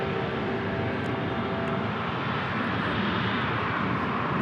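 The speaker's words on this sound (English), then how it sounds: "I hear some F-18s taking off over across at the island" F-18 fighter jets take off from a naval island across the bay from San Diego International Airport, heard as a continuous distant broadband jet roar that swells slightly over a few seconds.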